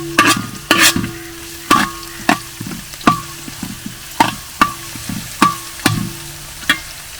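Crab roast masala being sautéed in a pan in a Kerala village kitchen: a steady rhythm of sharp spoon-scraping strokes, about a dozen of them, over a soft background sizzle, close and fairly loud.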